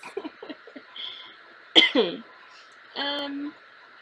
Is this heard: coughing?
yes